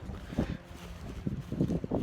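Hot early-season wind in Texas buffets the microphone outdoors in low, uneven gusts that rumble and swell for about two seconds with no voices.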